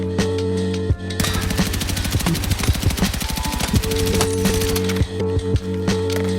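A suppressed DRS rifle in Battlefield 6, fitted with a thermal scope, fires on the firing range in a long, rapid, evenly spaced burst of sharp clicking shots, loud and close, over a steady background hum.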